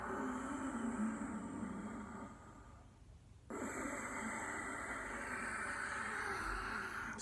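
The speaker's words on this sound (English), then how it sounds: "sighing, whistling ujjayi breath from the back of the throat" Ujjayi yoga breath drawn through the back of the throat with the mouth shut, a soft, steady whistling sigh: one long airy exhale, a brief quieter pause, then another long breath, close and gentle.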